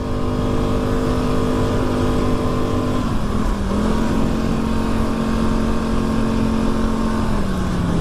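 A quad bike engine drones steadily while being ridden to work, loud and close, its pitch dipping and recovering briefly partway through, with no talking.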